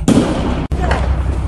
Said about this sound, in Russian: С тяжелого стреляют в сторону домов. С гранатомета сейчас ебет.